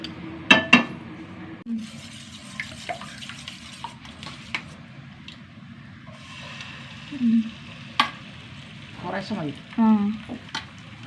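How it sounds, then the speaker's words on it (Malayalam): An egg frying in a pan with a soft sizzle, broken by a few sharp utensil clinks and scrapes against the pan at intervals. "ഞാൻ മുട്ട പൊരിച്ചെടുക്കട്ടെ"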